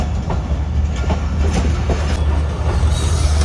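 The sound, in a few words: Bolan Mail passenger train running on rails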